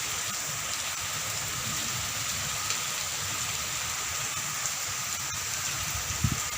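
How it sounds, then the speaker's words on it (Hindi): Steady rain falling, a continuous broadband hiss with soft patter, constant and fairly close throughout, no voices. "बारिश भी आ रही है"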